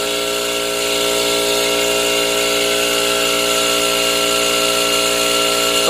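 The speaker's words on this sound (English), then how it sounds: "the air compressor kicked on" An air compressor runs steadily and loudly nearby, a constant droning hum with buzzy tonal layers and a slight swell in level, with no voices.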